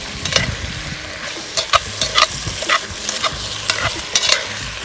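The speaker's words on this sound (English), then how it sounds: "Listen to this sizzle" Meat frying in a pan outdoors in January woodland sizzles continuously while a utensil stirs it, scraping and clattering in short irregular bursts close by, with no talk.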